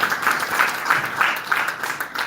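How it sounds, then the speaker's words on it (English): An audience at a gender-based violence training session claps for a trainer, a steady, moderately close patter of many hands throughout the short stretch. "Let's give her another round of applause."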